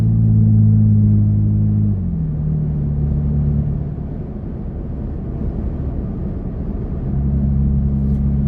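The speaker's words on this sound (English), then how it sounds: "I can hear a little bit of wind." Toyota Tacoma pickup cruising at about 43 mph behind traffic, heard from inside the cab as a steady low road and wind rumble with droning engine tones that dip midway and return.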